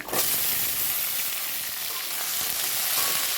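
Jackfruit seeds and cut potatoes frying in a pan, a loud, steady sizzle and hiss that holds level throughout with no talking.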